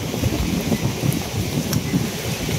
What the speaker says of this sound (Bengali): একটু ওরে বাতাস আইতেছে আর ঝিরি ঝিরি বৃষ্টি চলতেছে আর কি